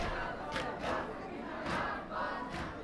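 A crowd at a Yaum-e-Zainab mourning gathering in a dargah shouts a response to the Nara-e-Takbeer slogan in loud, rhythmic surges of massed voices, repeated several times and close.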